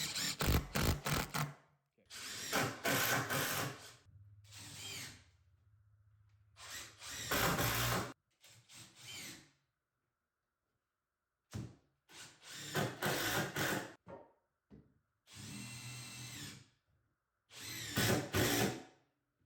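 A power drill drives screws into 2x4 workbench boards in several short, loud bursts of whirring and grinding, separated by pauses of near silence.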